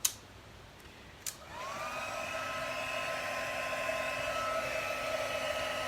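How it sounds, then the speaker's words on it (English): A heat gun is used to melt embossing powder on a handmade card. After a couple of sharp clicks it starts up with a rising whine, then settles into a steady, close blowing hum, with no talking. "So I've got my tool here, my heat gun."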